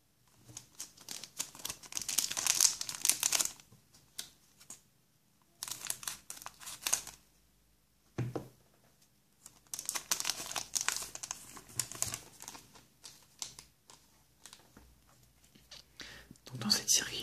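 A Pokémon Dragon Majesty Latias tripack booster wrapper crinkles and tears in close, soft bursts separated by short pauses, with quiet whispering in between.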